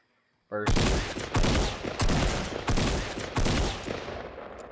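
Gunfire in the video game Fortnite opens after a brief quiet moment, then five heavy, booming shots land in steady succession, each one ringing into the next, loud and close.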